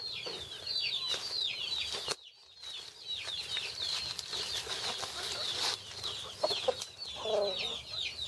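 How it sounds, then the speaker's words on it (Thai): A breeding rooster on a chicken farm: repeated close clucks and flapping wings in quick bursts, with a short pause midway, faint in places and alone without talk. "เราจะไปดู ไก่ตัวนี้นะครับ ซึ่งเป็นพ่อพันธุ์ของเรานะครับ"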